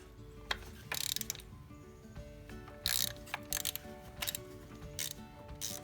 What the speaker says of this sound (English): I have a good grip with this extension, so I can loosen them all out and take them out as far as I can